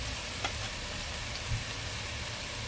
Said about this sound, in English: You have to make sure that the onion is not raw. So you stir fry it, right?